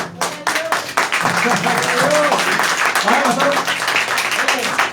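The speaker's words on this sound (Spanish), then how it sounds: "Entonces denle un aplauso al Señor." A church congregation applauds for the Lord after a sermon, with a short burst of clapping at the start that gives way to voices talking and calling out over a lingering patter.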